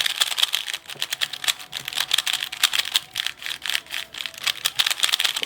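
A speed cube turned rapidly after lubricant was applied gives a dense run of crisp, clicky plastic clatter, fast and continuous, close and fairly loud with no talking.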